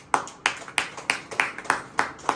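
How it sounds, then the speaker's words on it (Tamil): A Christian congregation claps in a slow, even rhythm, eight distinct claps close together and loud, sounding as one group with no voices over them. "நல்லா கைத்தட்டிங்க உற்சாகமா"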